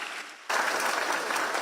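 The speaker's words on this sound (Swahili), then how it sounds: "Tumpigie makofi mazuri." Applause for a county official, an MCA, at a gathering in Kiambu, Kenya: a crowd bursts into steady, dense clapping after a quiet half-second and keeps it going at full volume to the end.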